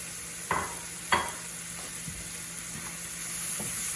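Mushrooms, onions and garlic with a little flour sizzle quietly in a frying pan, a soft steady fry with a couple of sharp utensil scrapes and clicks from stirring near the start and no voices.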